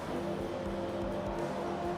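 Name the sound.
race cars downshifting at Indianapolis Motor Speedway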